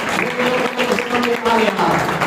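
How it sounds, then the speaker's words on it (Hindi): A church congregation applauding loudly, dense continuous clapping throughout with voices mixed in. "जोरदार ताली बजाए।"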